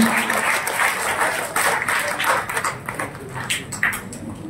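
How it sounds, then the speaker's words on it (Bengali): An audience at a commemorative ceremony breaks into sustained applause, with loud, dense clapping from many hands close by, swelling and easing in waves over several seconds. "করতালি দিয়ে আপনারা সম্মান জানান।"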